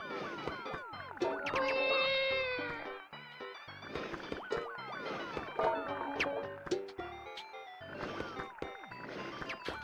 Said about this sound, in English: Oh, she heard me. Now she's meowing.